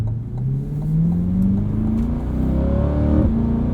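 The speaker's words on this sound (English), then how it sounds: "It's a very livable exhaust for that reason." Chevrolet C8 Corvette Stingray coupe, 2020, with a V8 exhaust revving under throttle, a loud steady engine tone rising in pitch through the clip, heard close with no talk.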